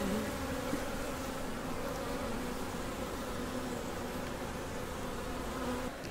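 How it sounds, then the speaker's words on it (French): Honeybees swarm over a hive frame at a quarry site in Béard, France, making a dense, steady buzz that holds constant and fairly close throughout, with no voices. "tu as déjà une abeille qui est après produire de la gelée royale pour nourrir la larve."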